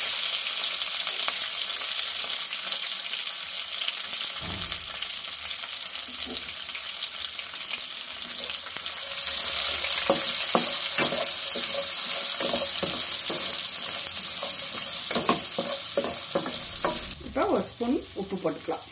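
Ground onion paste and curry leaves hissing loudly in hot oil, a dense close sizzle that grows stronger midway, with rhythmic stirring scrapes and clatter toward the end, no voices.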